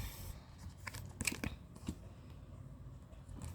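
Tarot cards being shuffled by hand in a quiet room: soft papery riffles and brief flicks and taps, a few sharper card snaps in the middle, faint and close with no talking.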